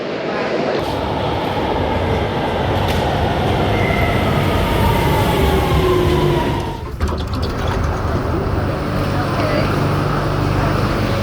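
A train carries passengers toward Malaga city centre, with a continuous loud rumbling ride noise, a rising whine and a brief disturbance partway through.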